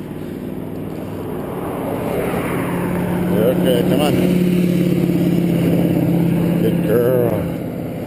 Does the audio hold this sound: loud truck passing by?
yes